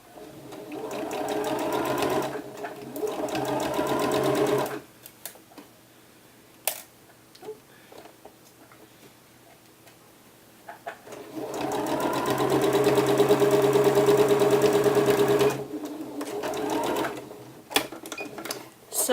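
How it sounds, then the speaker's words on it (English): Sewing machine stitching the sleeve of a peasant top, two long loud bursts of rapid mechanical whirring separated by a quieter pause with small handling clicks, then short stop-start stitching at the end. "I'm just carefully moving the top around as I'm sewing, so that I do not run over the rest of the bodice."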